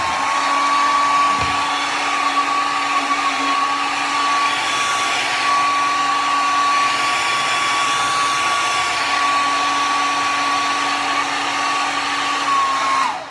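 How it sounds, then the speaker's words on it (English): A blow dryer runs continuously at close range while installing a lace frontal wig over locs, a loud steady whoosh with a high whine that holds level throughout. "And I'm going to turn on my blow dryer."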